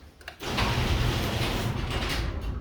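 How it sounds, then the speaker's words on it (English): An opener lifts a garage door with a steady mechanical whir and rattle that starts abruptly after a short pause and runs on continuously at close range. "we're going to press the button, we're going to bring the door up"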